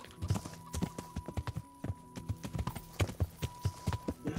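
Horse hooves clip-clop steadily in the video game Kingdom Come: Deliverance. The close, even rhythm of footfalls runs throughout, with no talking.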